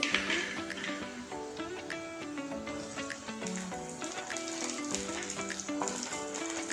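Tomatoes going into a pan of onions fried until red, with a dense, steady sizzle and crackle that runs loud and unbroken throughout, and no talking.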